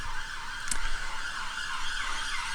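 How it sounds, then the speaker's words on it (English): A police siren wails outside, drifting in through open windows on a hot day; its rising and falling tone cycles steadily at moderate distance, with a brief knock partway through. "Please accept my apologies for the police siren that you can probably hear."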